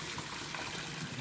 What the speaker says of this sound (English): carefully pour the water off, and we'll just let it sit in the colander